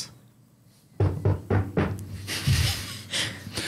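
A door knock sound effect plays during a classic 80s-style D&D tabletop session: a quick series of firm, hollow knocks in an uneven rhythm, fairly close and clear over a quiet room.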